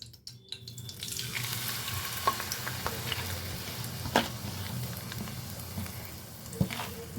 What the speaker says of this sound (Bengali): ঘিটা কিন্তু আমার গরম হয়ে গেছে এখন আমি এর মধ্যে দিয়ে দিব এই পেস্ট করে রাখা